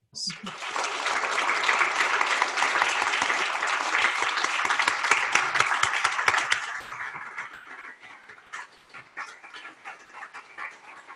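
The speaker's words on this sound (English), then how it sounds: "Let's give Shirley and the Eichenwald family a round of applause" An audience at a memorial forum applauds for Shirley and the Eichenwald family, a dense, steady round of clapping that holds for several seconds, then thins and fades as a voice begins to speak.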